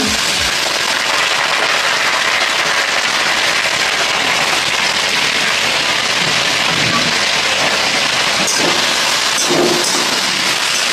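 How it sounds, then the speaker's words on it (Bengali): Diced potato, onion, garlic and green chili fry in hot oil, giving a loud, dense, continuous sizzle that hisses steadily throughout. "এটা এবার ভেজে নেব, ভালো করে ভেজে নেব।"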